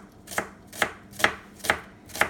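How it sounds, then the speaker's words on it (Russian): A knife slices an onion into half rings on a cutting board for a beetroot salad: five crisp, evenly spaced chops land about every half second, close and clear with quiet between strokes. "Лук я буду резать"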